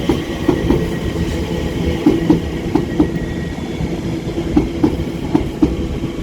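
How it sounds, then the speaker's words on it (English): A Class 345 Elizabeth line electric train passing on the Great Eastern Main Line: steady loud rolling roar with rhythmic clickety-clack wheel beats over rail joints, close and continuous. "over in the background will be the 1532 Elizabeth line service from London Paddington through to Shenfield"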